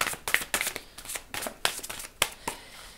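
Oracle cards handled and drawn from a deck, a quick, irregular series of soft papery slaps, flicks and rustles, close to the listener and fairly quiet.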